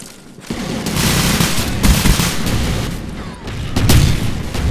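Dense gunfire and booming explosions from the Call of Duty Black Ops video game, loud and continuous with bursts of rapid shots and heavier blasts, no clear speech.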